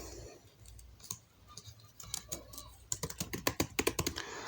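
Typing on a computer keyboard while filling in a business page description: sparse key clicks at first, then a quick, even burst of close, crisp keystrokes, with no talking.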